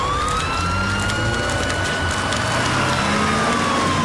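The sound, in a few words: ambulance siren approaching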